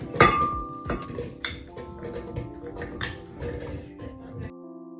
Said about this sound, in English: I'm gonna add the fruits to the blender